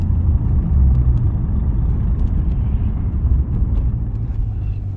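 Inside a 2007 Lexus IS350 on a freeway in sport mode, a low steady engine and road rumble fills the cabin, loud and continuous, with a slight swell early on and no speech.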